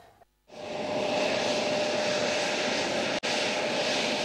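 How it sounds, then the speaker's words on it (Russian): An S7 Airlines passenger jet arriving from Novosibirsk lands at Izhevsk airport, its engine roar swelling after a brief lull into a loud, steady rush that continues, with one momentary dropout near the end. "Самолет авиакомпании S7 Airlines прилетел из Новосибирска."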